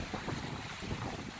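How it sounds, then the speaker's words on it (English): A strong wind gust on a mountain trail, a brief continuous roar and buffeting against the microphone, loud and close for a moment. "That's not a bad gust."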